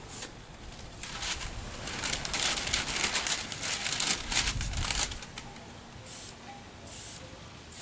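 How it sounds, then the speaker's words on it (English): Vinyl dye hisses out of a spray gun onto a boat seat in several close bursts, some long and some short, with quiet gaps between them. "So spray that first coat on there, let it dry a little bit."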